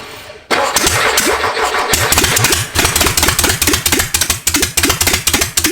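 A small air-cooled engine with no exhaust cranks briefly, then catches and runs with a rapid, uneven putter, loud and close with no muffling.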